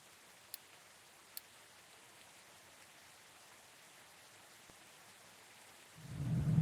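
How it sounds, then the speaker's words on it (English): Steady rain in the industrial city-building game Captain of Industry, a faint, even hiss of falling drops with a couple of sharp ticks early on and a low rumble swelling at the very end. "It's raining again."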